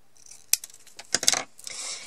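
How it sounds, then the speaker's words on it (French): Scissors roughly cutting paper strips for a handmade card and bookmark: a few sharp, quick snips and rustles up close, irregular and brief, with quiet between them and nobody talking. "je vais découper grossièrement ce que je vais avoir besoin"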